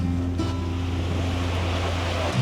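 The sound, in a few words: waves in a water park wave pool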